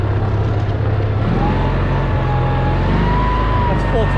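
An M274 A2 Mechanical Mule engine runs at full throttle in low first gear, a steady droning motor close by with a faint whine riding on top, under a person talking.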